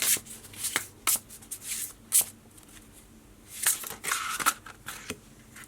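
Tarot cards riffled and shuffled by hand, several crisp fluttering bursts with short pauses between them, close and clear with no talking.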